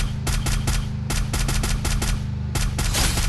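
Rapid bursts of automatic gunfire from a first-person shooter video game, loud and close, firing in several quick volleys with brief pauses between them and no talking.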